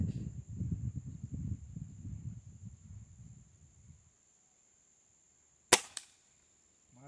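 Low rumbling noise fades into near silence, then one sharp, crisp shot cracks out from a Gamo Black Fusion air rifle fired at a 50-meter target, with a faint steady high whine running throughout.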